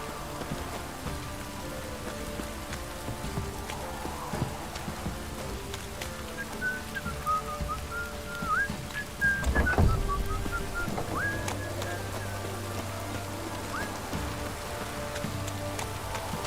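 Steady rain patters on surfaces in The Witcher III, a soft continuous hiss with scattered drops, broken midway by a brief louder splash or rumble.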